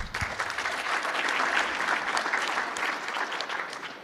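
Audience applause after a speech at a science panel, a steady wash of clapping from a modest crowd, moderately loud and unbroken for a few seconds.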